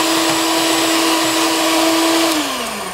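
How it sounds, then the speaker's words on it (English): Electric mixer whipping egg whites as sugar is gradually added, a loud, close, steady motor whine with a constant pitch that dips slightly near the end. "I'm going to whip them now. So here we go. I'm gradually adding the sugar and make sure it gets really stiff."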